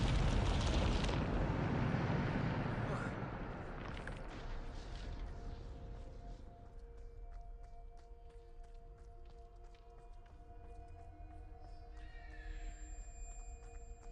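A Bombarda explosion spell in Hogwarts Legacy bursts with a loud, broad blast that rumbles away into a lingering low hum, with faint clicks and tones trailing behind.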